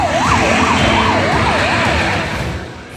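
Sirens from a police convoy crossing Gujarat wail in quick, regular up-and-down sweeps, loud and near over a rumble of traffic, fading slightly toward the end with no voices.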